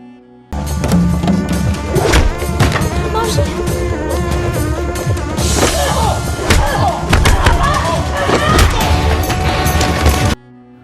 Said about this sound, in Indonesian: Mereka berdua terlibat baku hantam.